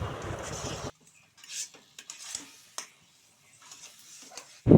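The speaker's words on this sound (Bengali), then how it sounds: "এবার আমি পাল্পটাকে অন্য একটা পাত্রে ঢেলে নেব।" Cooked palm fruit pulp being poured from a pan into another bowl for palm fritters. Soft, intermittent scraping and clinks of a utensil against the pot come in scattered taps, with a louder knock at the end.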